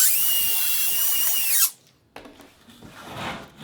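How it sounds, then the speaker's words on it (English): A power drill bores into a wooden cornhole board held in a drilling jig. It runs loud and steady, then stops abruptly. After a short pause come quieter handling and scraping noises, with no talk. "then we're going to go ahead and drill"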